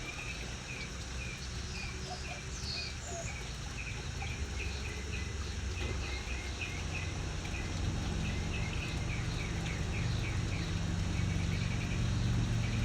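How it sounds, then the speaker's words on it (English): Birds chirp and trill repeatedly over a steady, rushing wash of running water in Mesa, continuing throughout without any voices. "Does it sound like I'm in a jungle because of the water and the birds?"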